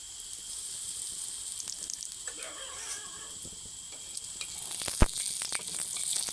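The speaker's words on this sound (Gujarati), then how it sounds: "આ રીતની બ્રેડને પલાળી પછી આ રીતની મૂકી દેવાની તેલમાં." Slices of bread dipped in besan batter fry in hot oil, giving a steady bright sizzle with scattered pops and crackles that sharpen near the end, close and moderately loud with no talk.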